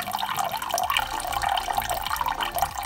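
Warm water pours into a bucket for a 5-litre batch, a steady close splashing and trickling stream that runs without a break.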